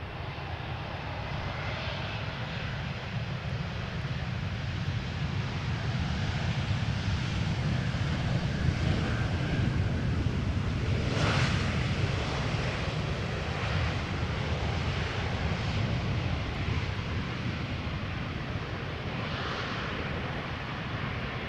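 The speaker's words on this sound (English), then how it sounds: "This is an A320neo arriving from Prague, Czech Republic." A five-year-old Airbus A320neo arriving from Prague lands at Amsterdam Schiphol Airport in crosswind: a continuous, loud jet engine roar swells and holds, with wind buffeting, and no talking.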